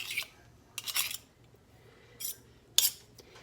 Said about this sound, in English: I'm going to get a smaller spoon now and scrape off all that